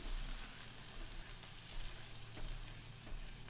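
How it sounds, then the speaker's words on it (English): Pureed onion frying in oil for sambal, a steady, dense sizzle with faint crackles that continues unbroken and fairly quiet throughout, with a low hum beneath. "it's essentially pureed onion that's been fried"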